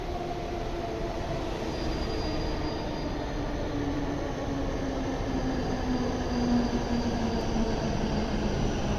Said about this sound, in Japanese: 17時13分発臨時列車糸魚川駅到着です